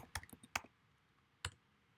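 A handful of quiet, clicky computer keystrokes come in a short uneven burst, then a lone final tap after a pause, close and faint with no voices.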